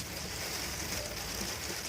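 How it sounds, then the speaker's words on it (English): Steady rain patters on the roof of a camper van, a soft, even hiss of drops with no breaks, heard from inside at a low level. "Can you hear that rain?"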